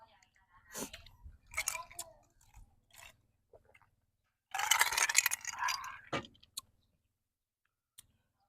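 Mouth-close chewing of steamed squid tentacles, soft wet smacks and squelchy bites in irregular bursts, with one longer sustained stretch of chewing amid quiet pauses.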